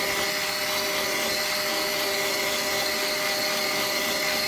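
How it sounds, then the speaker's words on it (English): A Turin DM47 coffee grinder runs, giving a loud, steady high-pitched motor whir with tonal hum throughout, close to the microphone and with no speech. "I always recommend doing this with the grinder running"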